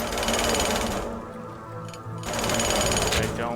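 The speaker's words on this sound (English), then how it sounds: "We'll just jackhammer this railing." A jackhammer pounds at a railing in the video game Teardown, a loud continuous rapid hammering that briefly drops off midway, then resumes at full force.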